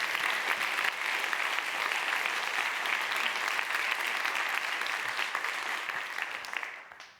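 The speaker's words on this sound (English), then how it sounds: "So big round of applause for all the amazing folks." Sustained audience applause fills a conference hall after a product design talk, a dense, even wash of clapping that holds steady and then tapers off at the end.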